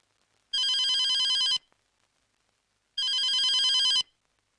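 Two loud, close bursts of an electronic telephone bell in a hospital setting, each about a second long, separated by a pause of over a second of near silence, with no voices.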